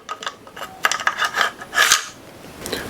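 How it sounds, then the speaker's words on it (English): Metal parts click and scrape close by as a bolt carrier group slides into a Brownells BRN180 Gen 3 upper receiver, a few sharp metallic taps and sliding rasps in uneven bursts. "Next, we'll put our bolt carrier group in"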